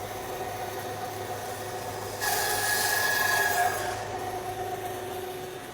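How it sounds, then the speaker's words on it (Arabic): A saw cuts through a sheep carcass bone, a short harsh rasping burst of about a second and a half over a steady low mechanical hum. "هاو المونشار كيفاش يقطع لك"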